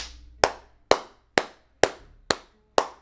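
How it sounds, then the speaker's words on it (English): Six sharp, loud hand claps ring out alone, evenly spaced about half a second apart, each snapping cleanly and decaying fast. "Clap it up, clap it up."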